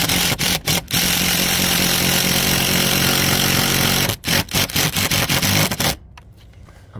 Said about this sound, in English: That's then drilled in to the rafters,